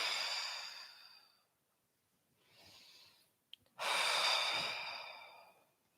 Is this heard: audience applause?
no